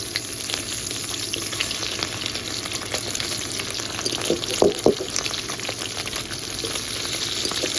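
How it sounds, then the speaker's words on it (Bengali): Small fish frying in hot oil in a pan, a steady close sizzle with a couple of sharp clanks and spatters midway as the pieces are turned over, no talking. "মাছের এক সাইড ভাজা হয়ে গেছে, উল্টে দিচ্ছি।"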